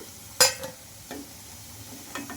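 Vadas made from leftover idli batter fry in oil with a soft sizzle, broken by a sharp utensil clank and a few lighter scrapes and taps nearby, with no talking.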